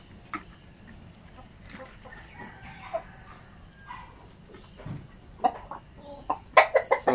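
Purebred Sampen chickens, the parent flock of chicks, cluck and call intermittently in an outdoor yard, with louder clucking bursts near the end over a steady background of crickets and insects.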